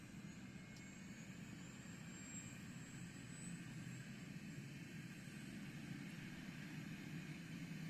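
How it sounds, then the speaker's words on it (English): A Eurocopter EC145 helicopter engine spools up in Microsoft Flight Simulator: a steady turbine roar with a deep rumble and a thin high whine that rises slightly, holding loud and even throughout. "And now the engine should start spooling up."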